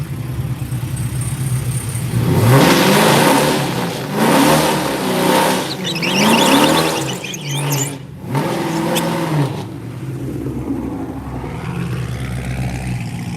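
A turbocharged drag car does a burnout at a Yello Belly grudge race, its engine revving loudly in rising, surging bursts for several seconds before settling to a lower rumble.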